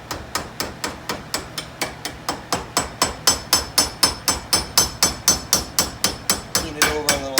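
Steady hammer blows peening hot brass for a blacksmithed brass rose, about thirty sharp ringing strikes at a brisk, even rhythm, close and loud, with no talking.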